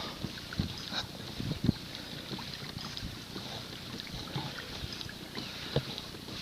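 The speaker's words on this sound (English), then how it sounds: "I can feel the wind picking up as I get closer to this corner" Wind picks up over the upper Noosa River while paddling, a steady broad rush of wind and buffeting noise across the microphone, with faint splashes and knocks of a paddle and boat.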